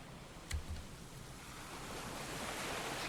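Ocean waves and wind at a beach in the video game Aoi Shiro: a steady, soft wash of surf and breeze with one brief thump early on, swelling slightly toward the end.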